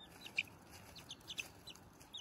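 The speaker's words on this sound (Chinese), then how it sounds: "把这两只小鸡都吓得钻到树里面去了" Small chicks cluck in a few brief, faint, high chirps, spaced irregularly over a quiet outdoor background, after fleeing from a cat into a tree.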